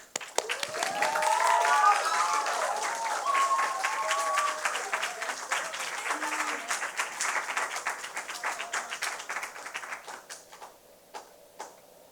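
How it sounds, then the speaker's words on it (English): A school audience at an English speaking contest breaks into applause welcoming a co-pastor to the stage, dense clapping right away that holds steady and then thins out to scattered claps near the end, with talk running over it. "Please welcome him with a big round of applause."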